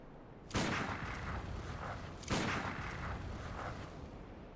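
Two loud, heavy booming gunshots in a first-person video game, each followed by a long rumbling echo that fades slowly.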